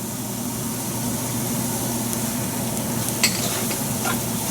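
Spice mix sizzling in hot oil with garlic for a shrimp étouffée, a steady broadband hiss with a low hum beneath and a brief clink near the end.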